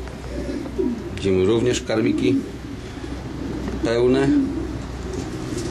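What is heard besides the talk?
young pigeons cooing in a pigeon loft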